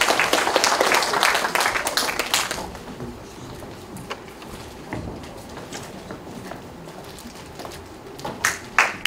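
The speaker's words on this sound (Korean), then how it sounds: "여러분 큰 박수로 축하해 주십시오" Audience applause at a Korean literary award ceremony, a burst of clapping that thins into scattered claps, then picks up again briefly at the end, in an indoor hall.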